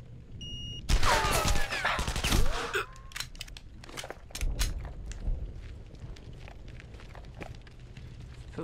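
Pistol shots and other gunfire from the video game Sniper Ghost Warrior 2, set in a city street under shelling. Sharp bursts come in two loud clusters, then fainter scattered cracks over a rumbling background, with no speech.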